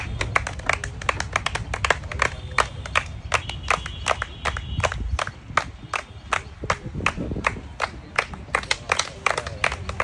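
Loud crowd applause and clapping for a contestant at an outdoor game of walking across wobbly banana tree trunks to drop a ball in a basket, sharp claps rattling steadily throughout.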